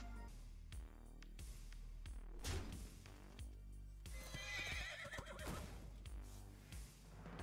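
A horse neighs and whinnies as a sound effect in the Hearthstone card game, with clip-clop hooves alongside. Repeated faint calls sound over several seconds.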